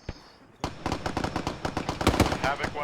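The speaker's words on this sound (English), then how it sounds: "I'm hearing gunfire to the southeast, roughly 2 blocks from your position" Rapid gunfire in the ArmA 3 military video game: a dense, loud string of sharp shots and bursts that starts abruptly after a quiet moment and keeps cracking rhythmically, heard close.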